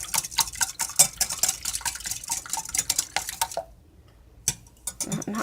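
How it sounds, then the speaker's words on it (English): Eggs being whisked briskly in a bowl for lemon curd, a rapid run of close metallic clicks and scrapes that stops briefly, then returns in a few short strokes. "come over here, and whisk the eggs"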